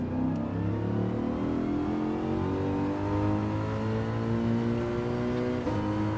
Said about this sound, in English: I love the sound of the Mercedes.